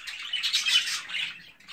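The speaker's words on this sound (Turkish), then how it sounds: "Kuşlar birazcık çok stres yapmış arkadaşlar." Newly arrived jumbo budgerigars, stressed after being unboxed, squawk and chatter. The high, raspy calls come in a dense, close burst that rises and falls for under two seconds, with no talk.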